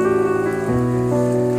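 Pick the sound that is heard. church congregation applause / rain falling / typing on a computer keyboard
rain falling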